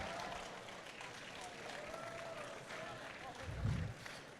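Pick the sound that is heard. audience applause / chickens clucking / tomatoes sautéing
audience applause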